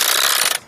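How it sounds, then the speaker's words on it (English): A rapid burst of mechanical ratchet clicks from a Saris MHS DUO bike rack securing a bike, close and loud, lasting about half a second before stopping. "You can hear the ratchet, and that's the sound of securing your bike."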